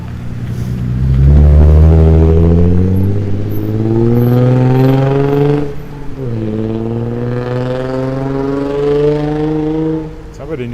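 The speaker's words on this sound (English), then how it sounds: "Somebody needs a muffler." A car with a missing muffler roars past on a city street in Regina in winter, its loud, raspy exhaust rising and falling through two surging accelerations, close by.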